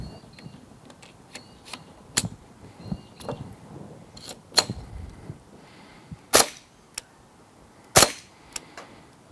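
A TTI Glock 34 electric gel ball blaster clamped in a vise fires orange gel balls in separate sharp cracks, several loud shots with quieter mechanical clicks between, no talk.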